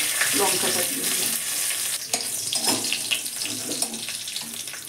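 Bay leaf, Bengali five-spice and fresh garden chili hit hot oil and fry with a loud, steady sizzle, broken by a few scraping stirs and crackles close by.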